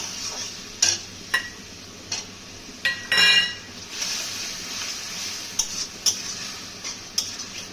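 Rohu fish curry spices with chili being stirred and sautéed in a pan, the spoon knocking and scraping against the metal in irregular clicks over a faint, low sizzle.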